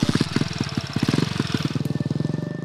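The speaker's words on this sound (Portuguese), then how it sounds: "E ela vai de moto." Small motorcycle on a muddy rural dirt road at an Amazon settlement, its engine popping in fast, loud, pulsing bursts, revving unevenly and then settling into a steady rapid throb, close and alone.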